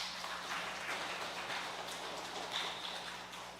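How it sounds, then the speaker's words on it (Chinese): A church congregation at a Taiwanese-language service claps together in a dense, continuous patter of applause, moderately distant and even throughout. "我们鼓掌，"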